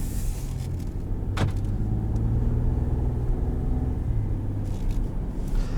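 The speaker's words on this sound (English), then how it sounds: "put it into drive with this 10-speed automatic and hit the road" A 2018 Ford F-150 Sport with the EcoBoost engine and 10-speed automatic pulls away, giving a steady low cabin rumble with a brief whine partway through, loud and continuous with no voices.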